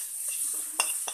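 Vegetables stir-fry in a pan, with a couple of quick utensil clinks against the pan over a faint sizzling hiss, close and brief.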